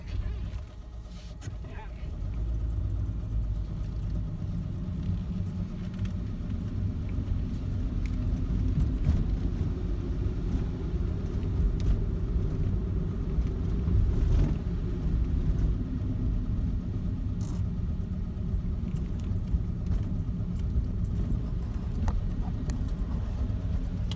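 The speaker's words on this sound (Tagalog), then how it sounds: "kailangan ko magsakay ng kotse" A car carries its load of garbage to a dump in Japan, giving a steady low engine and road rumble that stays even while driving, with a few faint rattles inside the cabin.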